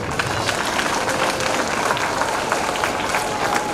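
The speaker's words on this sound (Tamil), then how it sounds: "அந்த கைத்தட்டிங்க" An audience applauds a costumed stage performance of a Mahabharata or Ramayana story, complete with bows and arrows, giving a dense, sustained patter of clapping from a crowd.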